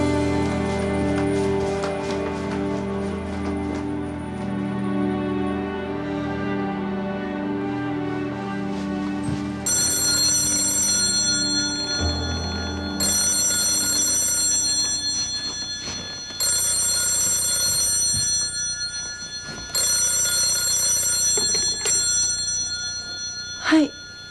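A telephone rings in four repeated bursts of bright electronic tone with short pauses between them, following a stretch of other sustained tonal sound.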